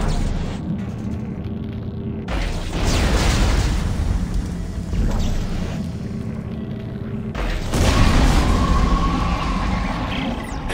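A crate of nitrogen trichloride blowing up in Dead Space 2, heavy booming blasts and deep rumbling in several loud surges separated by brief quieter gaps.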